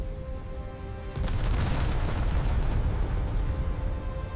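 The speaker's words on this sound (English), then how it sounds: "The Stinger hit with devastating effect." A Stinger missile strikes a Soviet Hind helicopter in Afghanistan, a sudden loud broadband blast that erupts about a second in and keeps roaring and rumbling densely to the end with no talk over it.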